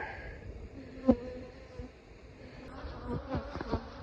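Honeybees buzz around beehives in an outdoor bee yard, with faint droning and a few brief, close passes of individual bees.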